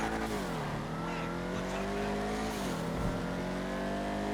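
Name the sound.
Vigero ZX muscle car wheels spinning, from a video game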